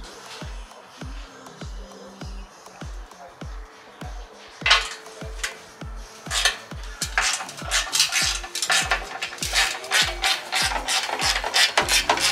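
A chain cutter ratchets through the resonator pipe of an Audi S3 8Y exhaust with steady rhythmic clicks, later joined by louder metallic crunching and scraping as the pipe gives way; no one talks.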